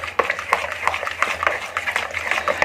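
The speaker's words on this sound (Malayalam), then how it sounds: "നമ്മുടെ ഗ്രാമ്പൂവിന്റെ പൊടിയും നമ്മുടെ കോൺഫ്ലവറും ചോറിന്റെ നമ്മുടെ ആ ഒരു ബാറ്റർ എല്ലാം കൂടെ നല്ലപോലെ ഒന്ന് മിക്സ് ചെയ്തെടുക്കാം" A spoon stirring clove powder and cornflour into a thick rice halwa batter, a run of soft rhythmic scraping and clinking strokes against the pan, close and steady, with no talk.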